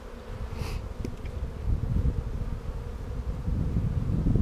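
Dense low buzzing of many honey bees at a hive during inspection, close and continuous, with some wind noise buffeting the microphone.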